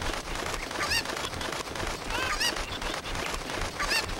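Chickens from Zelda: Ocarina of Time give repeated squawking clucks in short bursts about every second and a half, heard over a busy, noisy game background.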